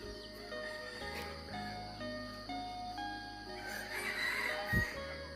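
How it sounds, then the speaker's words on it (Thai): A rooster crows somewhere outdoors in a rural area, with drawn-out, overlapping calls at moderate distance over a steady low background hum. "เสียงไก่ขัน"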